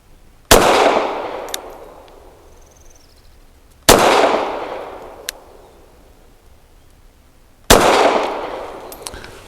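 An EAA Girsan MC14G84 pistol fires Federal Hydra-Shock 90 grain rounds outdoors: three loud, close single shots a few seconds apart, each ringing out and fading, with faint clinks of brass between them.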